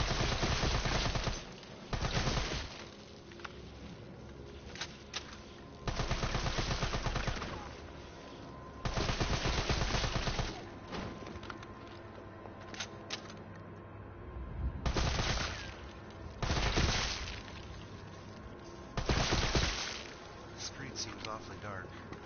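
Video game gunfire aimed at a box rings out in repeated loud bursts, several separate volleys of rapid shots with quieter gaps between them, heard alone without talk.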